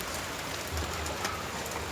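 Heavy rain pours steadily, a dense, even hiss of drops hitting surfaces throughout, with no voices.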